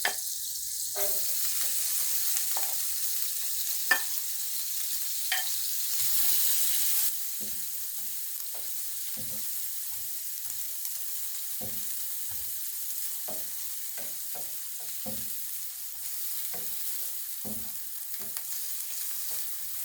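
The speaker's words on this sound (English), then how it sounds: "We leave the onions to fry till they are translucent." Onions fry in a pan for creamed spinach, a steady close hiss of sizzling oil with scattered clicks and stirring taps, and no one speaks.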